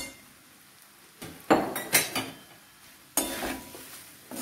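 Flattened rice (poha) poured into a pan for Mangalore chivda, sharp rattling and clanking bursts against the metal pan around 1.5 to 2.2 seconds, then another scrape and stir, close and loud with no talk.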